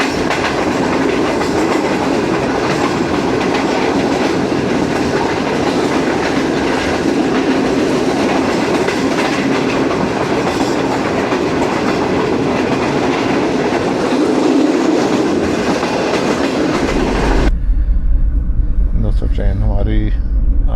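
Pak Business Express passenger train rolls slowly along worn track in Sindh, a steady loud rumble and clickety-clack heard from inside the carriage, ending with a sudden shift to a deep low drone.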